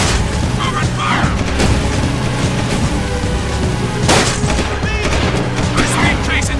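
Loud gunfire bursts during a high-speed vehicle chase in the video game Jak II, with booms and engine rumble all through. Shouted voices sound over the shooting.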